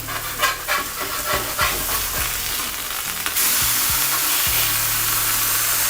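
Smash burger patties searing on a hot griddle, loud close crackling sizzle broken by several sharp scraping spatula flips, then a steady, dense hiss once they are turned.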